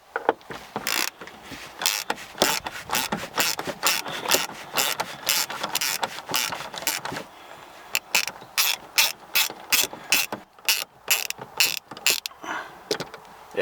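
A ratchet loosens the steering column housing bolts on a 2016 BMW 535i xDrive, with rapid, close, repeated clicking strokes in bursts, a short pause midway, and then more sharp quick clicks.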